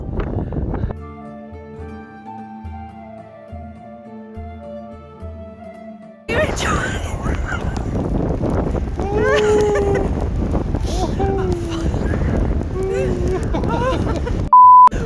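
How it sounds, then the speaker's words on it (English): Strong wind roars and buffets the microphone in a heavy, steady rumble while voices talk and exclaim over it. A short beep sounds at the end. "it's so windy"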